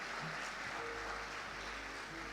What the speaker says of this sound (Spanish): Muy bien, aplauso